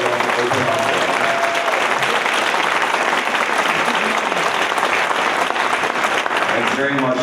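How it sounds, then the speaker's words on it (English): An audience at a conference gives sustained, dense applause for a teen panel, clapping steadily throughout with faint voices beneath. "So a little round of applause for our amazing team."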